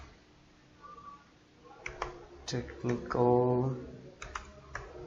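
Clicks from a computer keyboard come in short irregular bursts of keystrokes while a voice speaks quietly over them, close and fairly faint.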